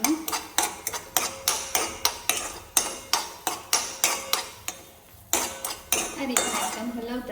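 A spoon scrapes and knocks against a pan while rava sheera, a semolina pudding, is stirred on the gas, giving regular metallic clinks about twice a second with a short pause before stirring resumes.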